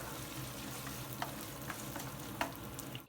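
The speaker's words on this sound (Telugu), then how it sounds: "అల్లం కూడా ఒకసారి ఇలా ఫ్రై చేసి" Pieces of ginger fry in oil with a soft, continuous sizzle and a few light stirring taps. The sound is quiet and close, with no speech.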